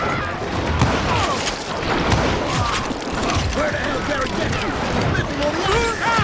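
Sustained crossfire fills the Call of Juarez Gunslinger shootout, with dense overlapping gunshots and mechanical clatter forming a loud continuous barrage, and a voice talking underneath.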